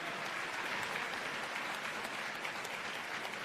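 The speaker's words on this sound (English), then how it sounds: "one big round of applause for all of the winners and scholarships" An awards-ceremony audience applauds the winners and scholarship recipients on stage, with dense, even clapping held at a fairly soft, distant level throughout.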